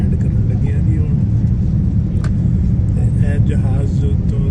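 Steady, loud low-frequency cabin rumble inside an airliner on approach to land at London Heathrow, continuous throughout with faint voices in the background.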